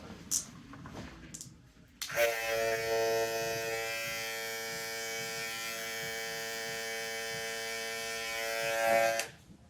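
An electric hair trimmer buzzes steadily and loudly for about seven seconds during a high buzz fade haircut, a harmonic-rich drone that starts abruptly and cuts off near the end, with faint handling sounds before it.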